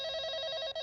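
A telephone ringing at a hotel front desk, a steady electronic trilling tone that runs unbroken except for one tiny gap near the end, fairly loud with no voices.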